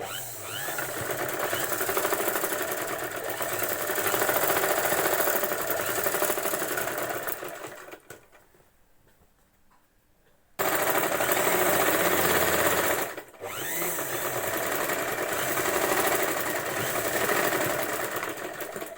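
A sewing machine stitching a blouse runs in loud, steady, rapid mechanical chatter, stops for about two seconds, then starts again and keeps going with one brief hitch.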